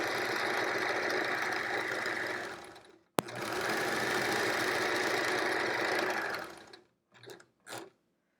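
A sewing machine stitches triangle quilt pieces in two long steady runs broken by a short pause, ending in a few brief bursts, close and loud with no talking.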